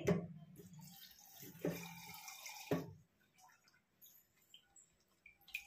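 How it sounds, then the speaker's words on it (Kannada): Water poured into a pan of eggplant curry in a few close splashing bursts over about three seconds, followed by quieter bubbling and small drips. "ಈಗ ಇದಕ್ಕಿನ್ನ ಸ್ವಲ್ಪ ನೀರು ಹಾಕಿ ಹಾಕ್ಕೊಳ್ತೀನಿ ರೀ"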